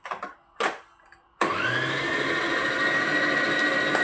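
A stand mixer kneading bread dough starts up after a few brief clicks and bumps, then runs as a steady, loud motor whir with a constant hum.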